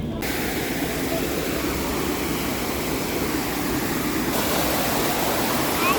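Kiwai waterfall in the Kaghan Valley of KPK pours with a loud, unbroken roar of rushing water that holds steady and close throughout, with no gaps.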